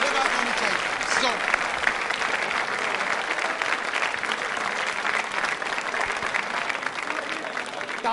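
Loud, sustained applause from a crowd at a college quiz show, many hands clapping in a thick continuous wash with a voice briefly audible underneath.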